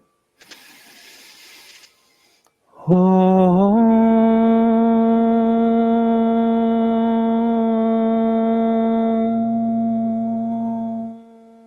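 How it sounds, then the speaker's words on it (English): A single voice chants a long, steady Om in a yoga class after a soft audible inhale. The tone swells in and holds for about eight seconds before fading, with a faint lower tone entering near the end. "Inhale for the sound of Om."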